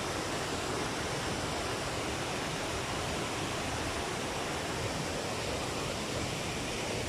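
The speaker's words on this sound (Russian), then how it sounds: "Тут водопадик за водопадиком. И дальше тоже водопадики." Small waterfalls cascading one after another in Turkey give a dense, steady, loud rush of water that fills the whole stretch without pause.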